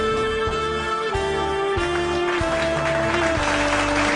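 An audience at a Human Rights Day program applauding, a steady, dense patter of clapping that grows fuller, heard under sustained tonal music with shifting notes.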